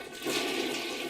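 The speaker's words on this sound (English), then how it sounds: "Flushing toilets." A toilet flushes in one short, close rush of water with no voices over it.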